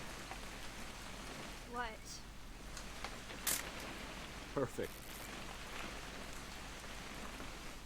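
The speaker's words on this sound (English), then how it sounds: "It's gonna rain the whole weekend, isn't it?" Steady rain falls throughout a scene in the video game What Remains of Edith Finch, a broad even hiss with a few brief louder spatters, while people speak briefly over it.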